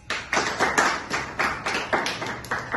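Applause for a performer honoring William Blake at a literary stage event: about a dozen sharp, evenly spaced claps in a steady rhythm, fairly faint and alone, with no talking.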